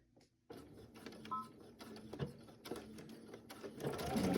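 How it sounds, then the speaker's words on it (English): Close, steady whirring and rapid needle thumping come from a sewing machine stitching around the edge of a fabric coaster to close a seam, starting after a brief quiet moment and running continuously. "then we will sew it all the way around and close up that seam."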